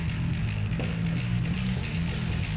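Water drains out of an engine, a steady, continuous gushing and splashing stream with a low hum underneath, fairly close and with no talking.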